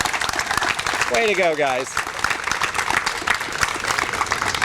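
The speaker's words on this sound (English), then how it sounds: "Can we give a round of applause for all the organizers and the people manning the tables?" Crowd applause at an outdoor Bike to Work Day gathering honoring organizers and table volunteers, steady dense clapping throughout, with a voice speaking briefly over it near the start.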